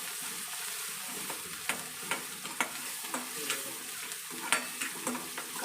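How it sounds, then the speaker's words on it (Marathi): Onions fry in a pan until reddish, giving a steady, dense sizzle with regular scraping stirs of a spoon every half second or so, close and alone. "कांद्याला व्यवस्थित भाजून घ्यायचा लाल होईपर्यंत"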